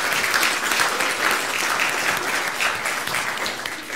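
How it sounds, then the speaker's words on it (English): A church congregation at a Palm Sunday worship service applauds preschoolers after their singing, producing steady, dense clapping that fills the room from start to finish with only slight swells and no clear talk. "So can we give the preschoolers a round of applause for singing?"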